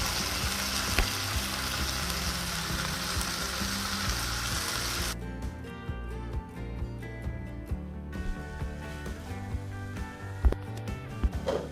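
Mixed vegetables with egg sizzle steadily in a pan, a close hiss that eases into quieter bubbling with scattered stirring and scraping sounds.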